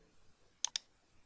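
Two crisp mouse clicks about a tenth of a second apart, close and fairly loud against near silence, made while working with Photoshop's clone stamp tool.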